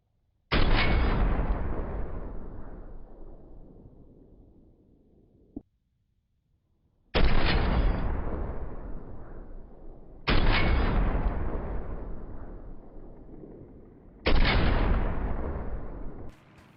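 Four heavy Lynx rifle shots in PUBG boom one at a time, each with a long echoing decay, spaced a few seconds apart with no talking.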